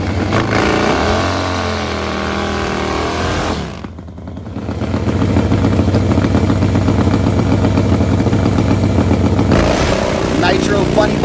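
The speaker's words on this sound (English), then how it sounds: "Nitro motorcycles coming your way, a Pro Fuel licensing pass" A nitro-burning Pro Fuel Harley-Davidson drag motorcycle makes a licensing pass: a loud, sustained engine roar dips briefly near the middle, then returns as a harsh full-throttle blast that carries through to the end.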